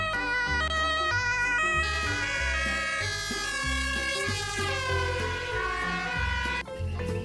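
A toy ambulance siren plays a loud electronic wail with a repeating up-and-down melodic pattern, heard close and alone for several seconds.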